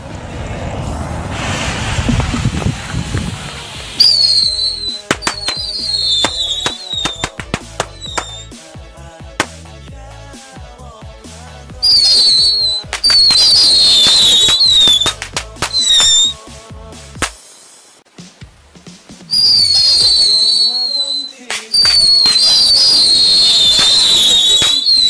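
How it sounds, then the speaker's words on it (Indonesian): A rocket firecracker combined with a tikusan firecracker goes off outdoors, giving a hissing fuse, a series of sharp cracks and pops, and repeated shrill whistling squeals that come in loud bursts. "langsung kita nyalakan mercon roket dengan tikusan"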